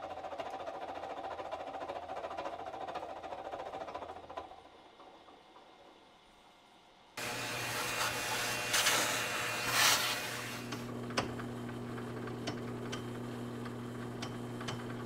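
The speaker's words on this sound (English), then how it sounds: "Now I've got it on the mill, and I just want to deck this piece off so that I have a nice flat surface" Milling machine taking light cuts to deck a scrap-built rotary table part flat, a steady mechanical whir and ticking that thins out, drops nearly silent, then returns louder with a sustained low hum and grinding cut.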